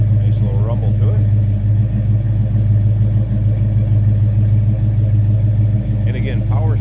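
A 1970 Chevrolet C10 shortbox truck with a 5.3L LS engine idling with a deep, steady rumble, heard up close from the rear, with someone talking over it.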